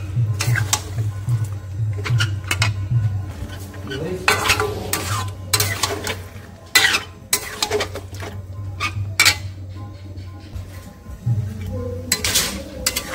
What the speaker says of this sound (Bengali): তেলের ওপরে মাংসটা দিয়ে দিলাম। ভালো করে আমি নাড়াচাড়া দেবো।